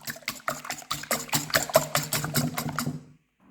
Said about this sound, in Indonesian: Lalu ini kita kocok dulu sampai putih ya teman-teman